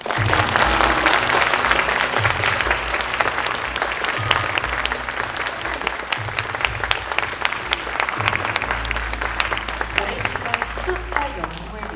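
An audience at a Hyundai hydrogen fuel-cell concept car unveiling applauds, a dense, sustained burst of many hands clapping with a low rhythmic music bed pulsing underneath.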